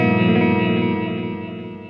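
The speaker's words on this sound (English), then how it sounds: "So really nice, crisp delay." A sustained electric guitar tone through a Walrus Audio Qi Etherealizer pedal, washed in echoing delay repeats and shimmer, slowly fading away as the delayed trails ring out.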